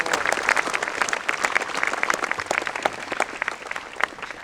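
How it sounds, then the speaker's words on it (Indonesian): A school audience at an Independence Day ceremony applauds award-winning students with steady, dense clapping from a large crowd in a reverberant space. Faint talk sits under the clapping. "Mari kita beri tepuk tangan yang meriah buat sahabat kita"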